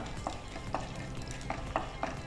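Urad dal and chana dal frying in oil for a tempering: steady sizzling with repeated scraping strokes of a spoon against the pan, roughly a few per second, close and clear.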